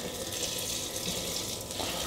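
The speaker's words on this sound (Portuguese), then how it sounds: "Agora eu venho aqui com a água fervente." Boiling water pours continuously into a cooking pot for beans, a close, steady rushing and splashing stream that does not let up.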